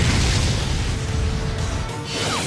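A loud, close anime explosion jutsu blast from a Naruto scene rumbles with a heavy low boom and dense crackling debris that slowly fades out, with no talking over it.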